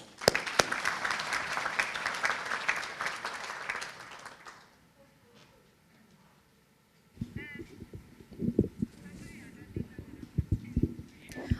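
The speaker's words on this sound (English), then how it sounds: "Ladies and gentlemen, a round of applause." A summit audience in a hall bursts into loud, dense applause for several seconds, which then dies away into quiet before talk and scattered noises resume.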